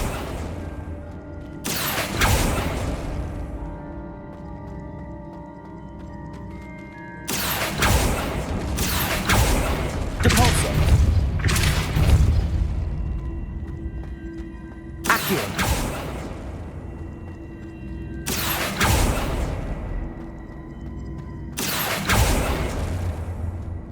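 Repeated Accio spell casts in Hogwarts Legacy, loud whooshing magical bursts in several separated clusters over a constant game ambience, each burst lasting a second or two, with no talking over them.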